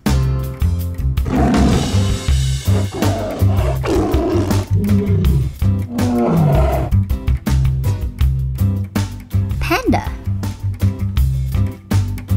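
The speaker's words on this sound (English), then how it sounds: "Lion." A lion roar from a Fisher-Price Little People zoo animal toy, loud and rough, repeating in several bursts over steady background music.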